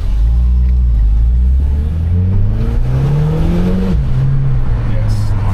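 A Japanese import car in sport mode, engine revving hard and rising in pitch before easing off, loud and close, with exhaust pops and crackles, under excited talk.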